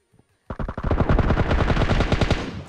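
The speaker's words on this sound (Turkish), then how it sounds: "Neyse Allah'tan Sezer vurdu yoksa ben bu adama yine düşecektim ha" Automatic gunfire in the PUBG Mobile battle game bursts out after a moment of quiet, a loud rapid stream of close shots lasting over two seconds with no talk over it.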